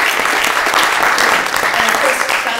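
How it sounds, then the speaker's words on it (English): Audience applause after a product management talk, a dense and steady wash of clapping that stays loud and close for the whole stretch, with no voices breaking through. "let's give them a big round of applause for letting us here"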